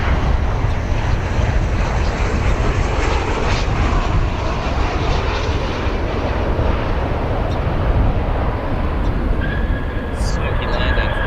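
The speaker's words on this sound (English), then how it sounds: "Smoky landing for that 737" Boeing 737 jet landing at O'Hare International Airport, a steady, loud broadband engine roar that fills the whole stretch without a break, with a faint higher whine near the end.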